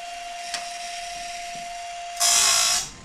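A band saw blade sharpener runs with a steady whine and hum as a blade nears completion, ending in a louder burst of grinding that soon fades.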